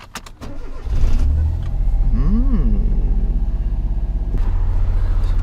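A repaired Suzuki Cappuccino small sports car starting up and pulling away, the engine catching after a few clunks and settling into a close, steady low rumble with one rising and falling rev.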